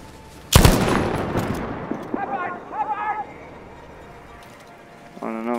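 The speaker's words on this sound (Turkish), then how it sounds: "Roket atıyor." Explosive blast of a rocket launch and impact in the video game Battlefield, a loud sharp burst followed by scattered gunfire and debris, with voices talking over the game sound.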